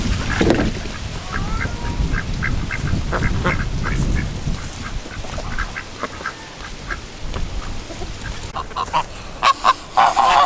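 Geese honk repeatedly in a noisy, overlapping chorus, some calls close and loud, others further off, over a rumbling outdoor background.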